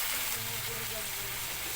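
Marinated pork for hamonado, a kilo of it, hisses in a pan with a soft, steady sizzle, fairly faint and brief, with a voice speaking quietly underneath.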